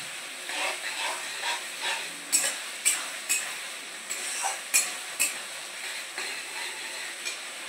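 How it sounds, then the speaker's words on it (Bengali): Chilli chicken is stirred in sauce in a pan, a soft steady sizzle broken by repeated spoon scrapes and taps against the metal at an uneven rhythm, close and moderately loud. "আমি এবার ভালো করে এটাকে জাস্ট নাড়ব।"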